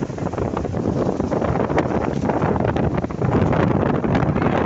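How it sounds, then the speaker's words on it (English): Strong wind blows hard across the microphone under a seaside gazebo, a continuous buffeting roar with gusts that swell and ease, and no one speaking. "Very, very windy day."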